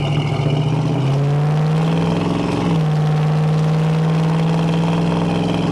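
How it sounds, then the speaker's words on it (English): A 1972 Chevrolet Chevelle's engine drones through its exhaust at a steady, moderate level, with a brief dip and a rise in pitch as the throttle shifts, continuous and close. "Exhaust is not too terribly loud"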